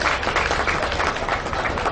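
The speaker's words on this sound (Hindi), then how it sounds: "तालियां बजी चाहिए लोगों के लिए।" Brief burst of audience clapping at a religious gathering, many hands applauding steadily and fairly loudly for a couple of seconds.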